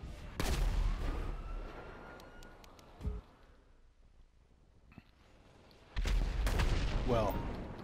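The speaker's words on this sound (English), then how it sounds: "I'm trying to shoot him" Video game gunfire sounds in short loud bursts, with a burst at the start, a lone shot midway and a heavier volley near the end, over quieter stretches.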